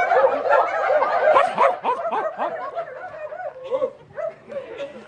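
A group of people imitate barking puppy dogs, producing a busy stream of overlapping yips, yaps and whimpering woofs that start loud and thin out into scattered, softer barks.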